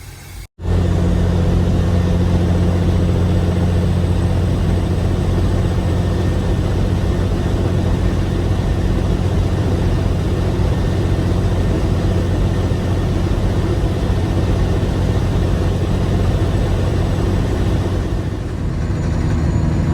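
A Peterbilt 359 dump truck's engine drones steadily from inside the cab while driving down the road, a loud continuous low rumble with no talk over it.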